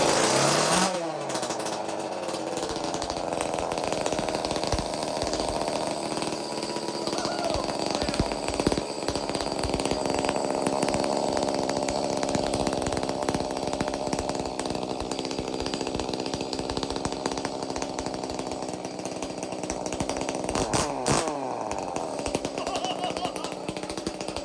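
An Echo 2511T chainsaw engine runs loud and close, holding a high, buzzing snarl with little change. A short rev or stutter comes near the start and another near the end.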